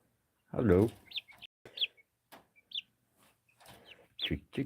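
Chickens clucking and squawking in short scattered bursts, close by, with quiet gaps between calls.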